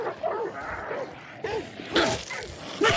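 Dogs barking in a horror video game, several sharp close barks and yips in bursts over a low, noisy background with brief whooshing sounds.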